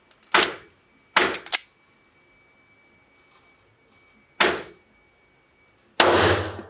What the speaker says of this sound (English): Okay, let's shoot the Hellcat Pro.